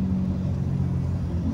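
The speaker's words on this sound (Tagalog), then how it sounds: "Nako, ano to? Mahabang traffic." Cars idle and creep in a long traffic jam along a city avenue between Katipunan and Commonwealth, a steady low engine rumble and road hum heard from inside a vehicle, constant and without distinct passing sounds.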